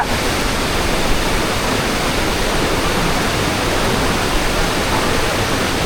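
The Saatsada waterfall roars constantly with a dense, loud rush of falling water that holds steady from start to finish, with no other sound standing out.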